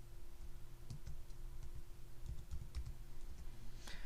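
Computer keyboard typing with scattered mouse clicks while data is entered into a spreadsheet cell in Excel, soft and fairly steady under a low constant hum, with no voices.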